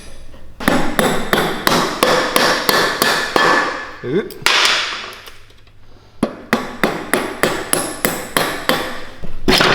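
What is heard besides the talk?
hammering on motorcycle brake shoe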